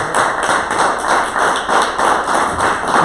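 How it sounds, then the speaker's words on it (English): Applause from an audience at a council event, dense sustained clapping rising and falling in waves, loud and close with no talk over it. "Come on, round of applause for that"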